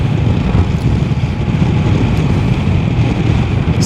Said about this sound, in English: I can feel the wind is hitting me.